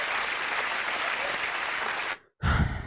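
Studio audience applause for contestants on a 1991 Big Break snooker game show, a dense, steady clapping that fills the room for about two seconds, breaks off into a brief silence, then returns loud and close.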